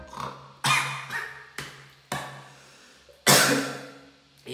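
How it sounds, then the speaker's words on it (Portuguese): A person coughs several times in short, sharp bursts spaced about a second apart, close and fairly loud, each burst trailing off with a rasp; one harsher cough near the end. "Fui imitar um porco e tossi."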